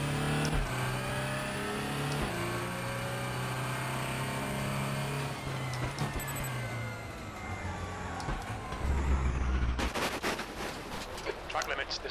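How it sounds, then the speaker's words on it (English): A race car in RaceRoom Racing Experience runs over gravel, its steady engine drone joined by rough crunching and rattling that grows harsher and noisier toward the end, with a voice talking over it. "That gravel sounds really good."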